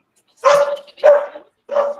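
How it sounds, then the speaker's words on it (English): Dogs barking outside, three short separate barks at steady spacing, fairly close and clear with no other sound between them. "That's literally like there's dogs running around down there somewhere"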